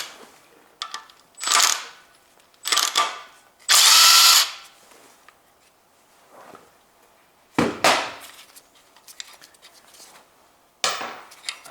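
A 17mm socket wrench works loose the drive belt tensioner bolt on a Toyota 1.8 2ZZ-GE VVTL-i engine, giving several separate bursts of ratcheting and grinding, loud and close, with quiet gaps between them.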